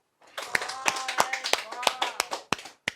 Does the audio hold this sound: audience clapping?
yes